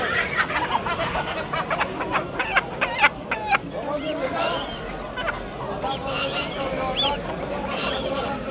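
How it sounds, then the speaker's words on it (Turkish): Goslings and other poultry at a bird market in Bursa, a mix of clucking and honking calls in short bursts over crowd chatter, people talking nearby. "Kaz bilikleri."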